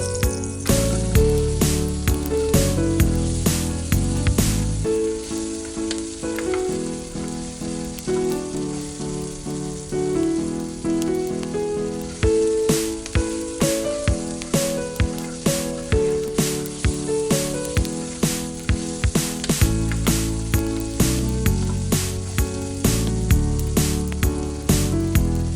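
Onion fries in a tiny miniature pan for an egg curry, a soft sizzle sitting under rhythmic background music that dominates throughout.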